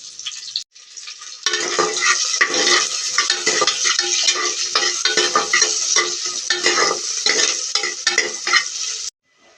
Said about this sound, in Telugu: తెల్లగడ్డలు కొన్ని, కరివేపాకు, అవన్నీ వేగాక కొద్దిగా ఎర్రగడ్డలు,